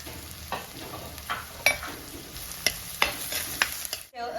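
Shallots and green chillies sauté in a pan for a Kerala-style fish curry, a soft sizzle broken by several sharp spoon scrapes and clinks against the pan, with no talk.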